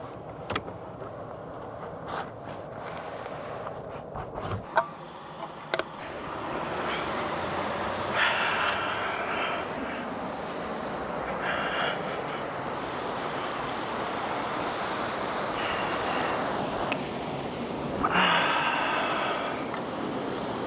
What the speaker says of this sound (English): The sounds of the river just crashing on the rock.